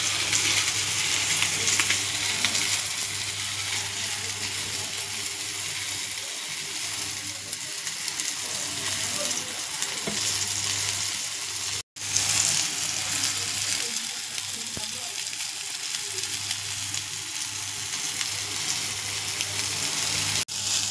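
Surmai fish steaks frying in a pan give off a steady, close sizzle that runs without pause, with one brief break midway.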